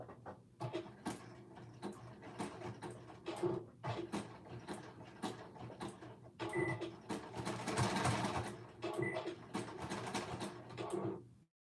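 Sewing machine stitching knit fabric at a 3/8 seam allowance, running in close, rapid mechanical bursts with brief stops and restarts and a longer steady run in the middle, no talk.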